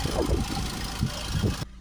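A Honda Civic 2.2 diesel engine idling, a close steady low rumble with a faint rhythmic knock that continues evenly before cutting off abruptly near the end.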